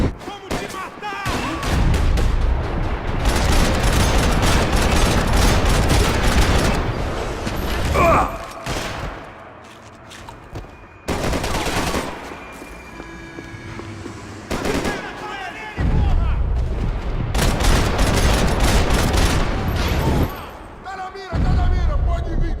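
Bursts of gunfire crackle through a Max Payne 3 shootout at an airport, loud repeated volleys broken by short lulls, with shouted voices between the shots.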